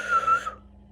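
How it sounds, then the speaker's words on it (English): A person gives a short, bright whistle of about half a second, close and moderately loud, before it breaks off into near silence. "they just whistle, like this."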